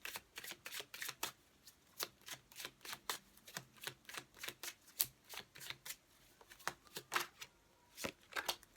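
An oracle card deck (the Oracle des Miroirs) is shuffled and cut by hand, giving a steady run of crisp, close riffling snaps and taps with short pauses between them, and no talking.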